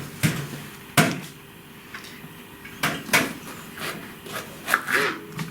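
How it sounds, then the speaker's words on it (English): A knife slices through a pepper on a board in a series of sharp, close chopping knocks with soft crunches, irregularly spaced and moderately loud. "Now I'm going to start slicing my vegetables."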